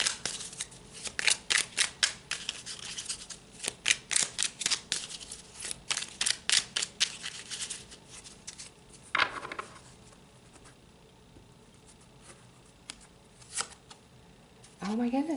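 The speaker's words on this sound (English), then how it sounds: "Let's pull some more tarot." Tarot cards shuffled by hand, a quick run of crisp riffling flicks over roughly eight seconds, then a pause and a few scattered soft card snaps with a brief voice breaking in near the end.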